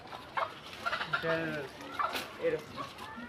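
Hens clucking in short bursts close by, with a person talking over them throughout.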